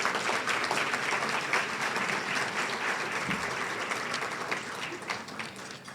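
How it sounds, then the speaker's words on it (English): An audience at a luncheon gives sustained applause, a dense wash of clapping that stays steady and slowly fades toward the end, with no talking. "Please give them a round of applause."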